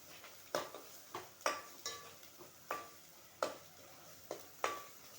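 Village-style potato curry with sambar masala being stirred in a pan: a steady run of about eight close scraping and clinking spoon strokes against metal, with no voices.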